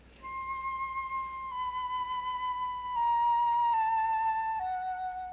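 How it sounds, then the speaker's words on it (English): Solo flute in a slow orchestral movement plays sad falling minor-second steps. Sustained, soft tones descend in pitch over a quiet background, with no talking. "where there's a sad flute solo, mostly made of falling minor seconds."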